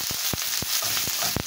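White onion and garlic sizzle steadily in a hot pan, broken by several soft scraping strokes of a stirring utensil at irregular intervals, close and with no talk.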